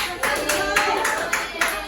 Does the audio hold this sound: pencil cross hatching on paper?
no